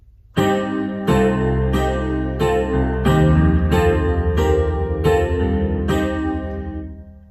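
A sequence of about eight piano chords from a song, each struck and held before the next, ringing out clearly with the last one fading away.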